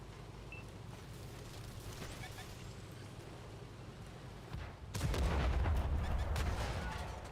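A tank gun fires in World of Tanks from the EBR 75 MLE '54, a single heavy boom that breaks a steady engine rumble and leaves a loud, rolling low roar behind it.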